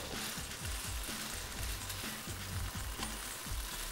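Spices with salt, thyme and black currants stirred in a frying pan, a steady sizzle broken by repeated scraping strokes of the spoon at a regular pace.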